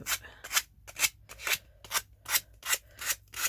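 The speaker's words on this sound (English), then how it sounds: "a scrappy bit of sandpaper" Scrap sandpaper rubbed back and forth along an MDF edge, nine or so close, rhythmic rasping strokes at a steady pace with no voices.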